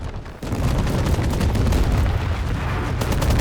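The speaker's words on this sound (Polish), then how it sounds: "to jest akacja. Stare ruskie działo. Kaliber ma 152 mm, ale nie jestem pewny." A 152 mm Akatsiya self-propelled howitzer firing in the battle game Call to Arms, heard as a loud, dense, sustained roar of gunfire and rumbling blasts that starts abruptly and fills the whole stretch.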